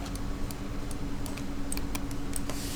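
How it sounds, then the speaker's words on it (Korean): Keys on a computer keyboard are pressed, including the Delete key, producing a string of light, irregular clicks over a steady background hiss. "키보드에 del 키를 누르셔도 삭제는 됩니다."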